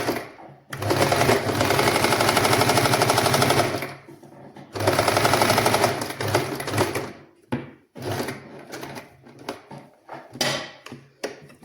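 Sewing machine stitching the opening of a nightie runs in two long, loud, rapid bursts of close mechanical chatter, separated by a pause, and then gives way to short handling knocks and clicks.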